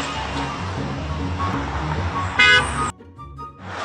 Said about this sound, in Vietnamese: các tài xế con khi liên tục bấm còi xe